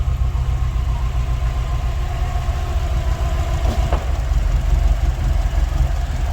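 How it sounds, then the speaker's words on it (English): A rarely used classic car's engine idling steadily just after starting, a close, even low rumble with no talk. "for a car that hasn't been used much, it does run very well"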